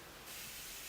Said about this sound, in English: I'm going to spray down my angled Top Kabuki F84.